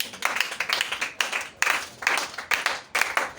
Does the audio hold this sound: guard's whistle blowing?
no